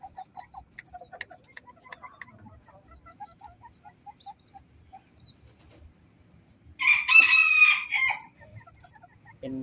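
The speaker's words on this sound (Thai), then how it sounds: "เป็นไก่แจ้สีโกโก้ครับนำเขามาจากจังหวัดอยุธยาครับ" Cocoa-colored bantam chickens from Ayutthaya kept as breeding stock: one loud, close rooster crow rings out near the end, preceded by scattered soft clucks and small movement noises around the coop.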